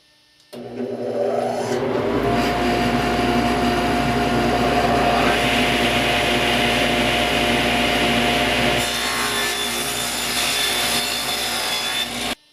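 A power saw trims wood for a sandpaper storage cabinet, its motor whining loud and continuous with a gritty cutting rasp for about twelve seconds before stopping.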